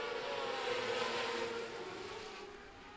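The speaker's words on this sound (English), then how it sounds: "Isaiah Garcia sizes him up coming around into turn 4 and gets on the loud pedal" A race car engine roars loudly and steadily out of turn 4 at I-37 Speedway, its pitch holding high before easing off slightly toward the end, with no voices.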